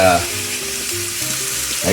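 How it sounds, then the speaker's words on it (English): Loud, steady sizzling of chicken frying in a hot pan on the stovetop, a broad crackling hiss with faint tonal hum beneath, no talking. "listen to that sizzle"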